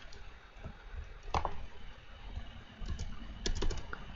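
Quiet, rapid clicks of a computer keyboard as a command is typed at a command prompt, with short bursts and a few sharper keystrokes, close by and alone without speech.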